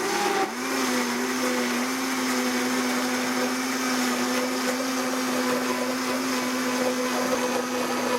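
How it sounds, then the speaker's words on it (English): A blender purees roasted pumpkin soup, starting with a brief jolt and then holding a loud, steady whirring motor drone throughout, with no talking. "So now we're going to just give it a quick stir and throw it in the blender."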